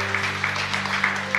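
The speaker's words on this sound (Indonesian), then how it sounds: "Tepuk tangan yang meriah bagi Tuhan Yesus." Audience applause in a church service, a moderately loud, steady clatter of many hands over a low, sustained instrumental hum, likely a keyboard or organ note.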